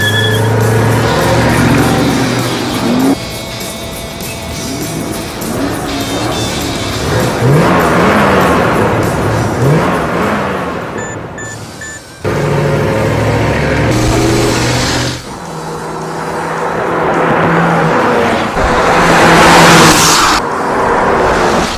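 A 2004 Mercury Marauder does a burnout: a loud, close V8 engine revs hard and rises and falls in pitch, with the roar of tire spin. There is a brief drop near the middle, then the revving surges again, with no talking.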